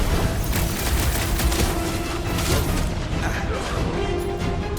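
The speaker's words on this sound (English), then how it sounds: "Fireworks!" Fireworks-style explosions in the video game Marvel's Guardians of the Galaxy, a dense, continuous barrage of booms and crackles mixed with game action noise, loud and unbroken throughout.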